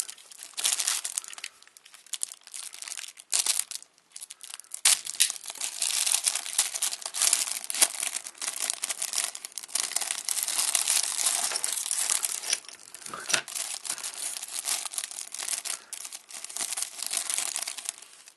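Tape being peeled and torn from a sealed package holding a vintage Transformers Dinobot toy, with loud, close crinkling and ripping that continues with brief pauses and no talking.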